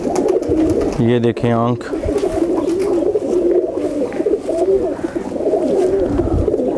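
A pair of blue chatri (low-flyer) pigeons coos softly and steadily close by, a low repeated murmur running throughout while someone talks over it.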